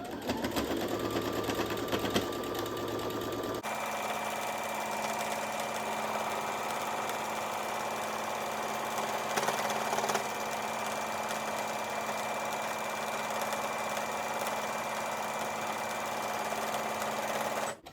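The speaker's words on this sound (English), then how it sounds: "And just go all the way around, sewing the whole lot together." A sewing machine runs steadily for a long stretch while stitching a fabric stoma bag cover, its close, continuous motor whir and needle clatter holding a constant level throughout, with no talk.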